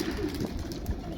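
Pigeons coo softly at a Baku pigeon club, low murmuring calls running continuously over a steady background hum.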